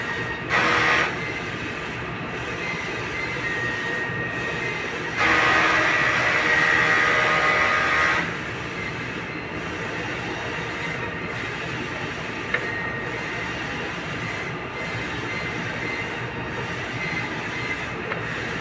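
Mechanical whirring and humming from a large-format four-head sublimation printer running a head clean, with a louder pass near the start and a sustained louder stretch in the middle, then steady running.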